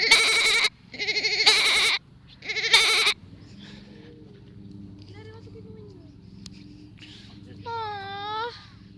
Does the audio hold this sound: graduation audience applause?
no